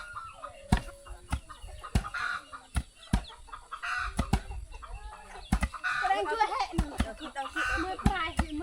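Village chickens in a rural Thai roadside settlement cluck in short repeated bursts close by, mixed with sharp knocks and other farmyard noise throughout.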